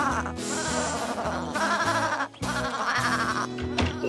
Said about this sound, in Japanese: どうして羊がこんなところに。